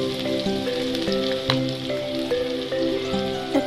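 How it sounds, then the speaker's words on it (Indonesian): Boiled chicken liver and gizzard frying in a pan give a steady close sizzle with crackling pops and occasional stirring knocks, with no voices. "tinggal kita goreng ati ampelannya"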